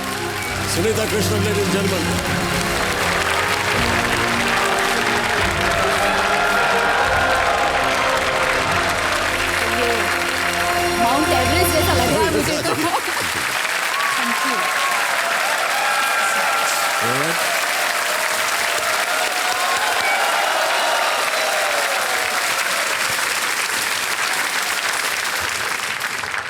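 A studio audience on a television quiz show breaks into strong, sustained applause welcoming a guest. Stage music plays over the clapping for the first half, then the applause carries on alone.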